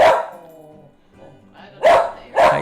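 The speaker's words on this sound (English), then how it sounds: "We got our first bark of the morning." A dog gives a few sharp barks up close, one at the start and two more in quick succession near the end, with a faint whimpering sound between them.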